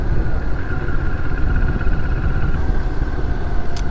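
A 2022 Moto Morini X-CAPE 649 motorcycle cruises at about 55 to 60 mph under 4,000 RPM, its engine a steady, loud mid-pitched drone mixed with constant wind rush.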